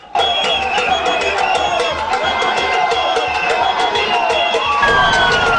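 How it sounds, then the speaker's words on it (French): A dense crowd of football supporters lining a route cheer and shout continuously, loud and close, with whistles and horn-like tones rising through the sustained roar. "cette foule de supporters massés le long du trajet qui va de Simalène à l'hôtel Montfébé"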